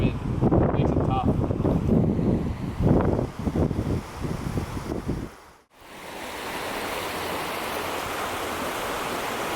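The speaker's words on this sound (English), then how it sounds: "wind's starting to pick up" Wind picks up outdoors near a river on a late-winter fly-fishing trip. A voice talks at first, then a steady, moderate broadband rush of wind carries on alone.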